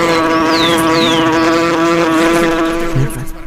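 Buzzing flies as a sound effect in a radio drama, a loud continuous insect drone with wavering pitch that carries through the whole stretch, close up and without speech.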